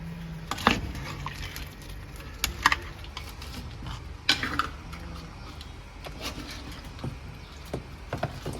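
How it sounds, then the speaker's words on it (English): A spoon clatters and scrapes in a pot of Sri Lankan crab curry, irregular knocks and taps of shell and utensil against the vessel, close and fairly crisp, with brief scraping between hits. "Now we're gonna stir it, give it a good stir."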